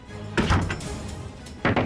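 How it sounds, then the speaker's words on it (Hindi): A door is shut suddenly indoors, giving a heavy thump followed by a short rattle, then a second firm knock-like bang a moment later, close and loud. "ये इन्होंने अचानक से दरवाजा क्यों बंद कर दिया?"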